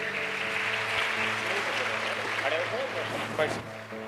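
A gathering welcomes a revered spiritual guru, Bal Yogi Arun Chaitanya Ji Maharaj, with a steady wash of applause from a crowd that holds evenly for about four seconds, a faint hum running underneath.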